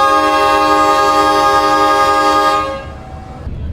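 The Sribilah Utama passenger train sounds a long, loud, steady horn blast as it departs Padang Halaban station in Indonesia. The horn fades out near the end, leaving low rumble.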